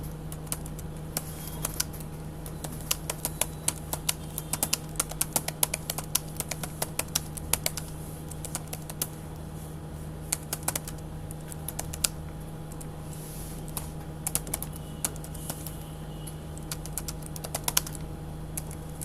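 Someone types on a computer keyboard in MS Word, producing a steady run of close, crisp key clicks with uneven rhythm over a low constant hum, with no speech.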